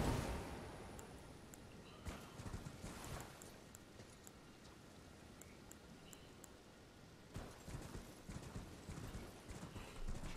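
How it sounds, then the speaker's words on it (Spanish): A horse gallops in the Elden Ring video game, a steady rapid clip-clop of hooves running continuously, close and fairly loud over a faint background of ambient game sound. "Bueno, iremos en mi corcel."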